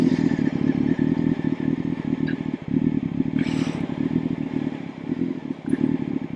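A motorcycle is knocked into gear and pulls away during low-speed skills drills. The engine note is a steady, close rumble with light clatter and a brief scrape partway through, and no talking.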